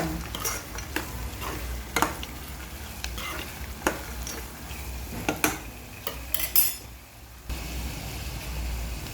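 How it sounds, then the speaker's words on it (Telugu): Cashew nuts frying in a pan for a drumstick curry, a quiet steady sizzle broken by repeated sharp clinks and scrapes of a spoon stirring against the metal, close up with a short lull near the end. "మనం కొంచెం జీడిపప్పు వేస్తాం ఇది వేయించి పెట్టుకుని జీడిపప్పు"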